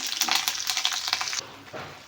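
Curry leaves sizzling in hot oil for a tempering as they are stirred around the pan, a busy crackling frying hiss with quick stirring scrapes that drops off partway through.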